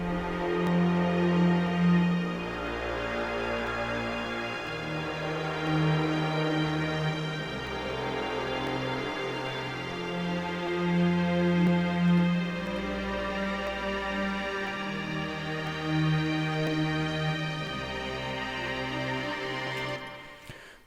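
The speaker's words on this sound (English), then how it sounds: "So, we've got this orchestra right here, which altogether, it sounds like this." A layered orchestral arrangement with strings, bass notes on cello and a high violin plays within a West Coast beat, sustained chords shifting in slow, repeating phrases, full and loud with no voices.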